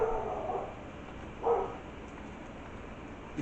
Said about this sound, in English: Listen to my dog bark inside the house because she's not getting any tzatziki.